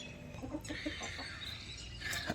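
Hens on a poultry farm cluck in short, repeated bursts up close, with a steady murmur of more birds behind them.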